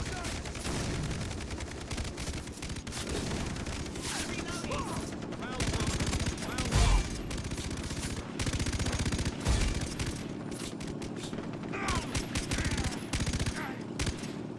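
Light machine gun fire in Far Cry 3 rattles in long continuous bursts, dense and loud, with a few heavier booms mixed in.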